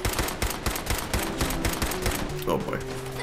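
Gunfire in the Fallout 4 video game comes as rapid, loud bursts of close automatic shots with a few lower tones between them.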